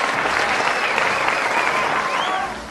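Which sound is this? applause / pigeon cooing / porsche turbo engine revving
applause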